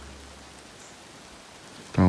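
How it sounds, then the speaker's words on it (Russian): Light rain setting in over the Siberian taiga near a log cabin, a soft, even hiss of drops that stays faint and constant, with a voice breaking in at the very end. "Дождик расходится."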